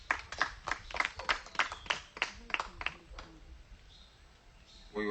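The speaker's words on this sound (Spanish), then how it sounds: "Fuerte los aplausos para recibir a este gran talento de Tijosuco" Audience applause welcoming a performer at a Maya cultural festival in Tihosuco, Quintana Roo, Mexico: a string of sharp, rhythmic clapping bursts that fade after a few seconds, with a voice entering at the end.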